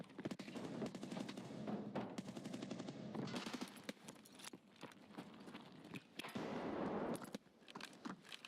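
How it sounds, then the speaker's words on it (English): Rapid automatic gunfire in Escape From Tarkov lays down suppressive fire in long, dense bursts of sharp cracks with a brief gap midway before it resumes, loud and close. "Send them some lead!"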